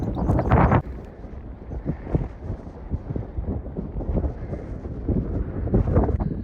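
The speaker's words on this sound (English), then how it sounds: "The wind is getting up now." Gusty wind buffets the microphone high on the hilltop of Caer Caradoc near Church Stretton, a loud continuous rumbling roar with stronger bursts at the start and end.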